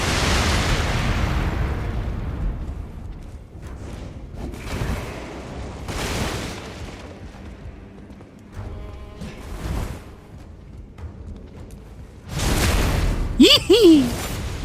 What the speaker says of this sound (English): I'll wait until these dummies throw their bombs.